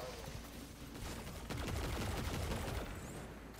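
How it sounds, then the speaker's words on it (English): A video game gun fires in bursts that sound like a Star Wars blaster, a rapid fusillade of shots rising in intensity midway, heard fairly faintly. "Sounds like the gun from Star Wars."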